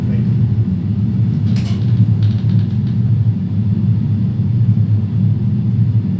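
A simulated airliner braking on the runway after landing, a loud continuous engine rumble and roar filling the whole clip, steady and close, with a few faint clicks partway through.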